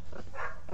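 A puppy barks and yips in a short, fairly loud burst heard close by over the background sound of a hero game, with no talking.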